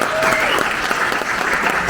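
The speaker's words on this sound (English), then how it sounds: "Can we just give them a round of applause?" Loud, dense applause from a crowd, a steady wash of clapping that fills the whole moment, with a brief voice barely surfacing underneath.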